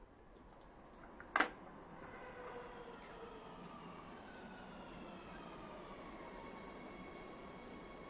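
Metro train rumbling along with a steady low roar, rising pitched wheel and motor whines sliding across, and a brief sharp clack early on; moderately distant and even.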